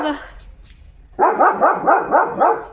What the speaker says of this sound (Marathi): नुसतं भुंकत राहायचं